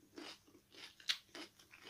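Someone bites into and chews a crunchy, sweet chili pepper up close, producing a series of soft crunches with one sharper crisp crack in the middle.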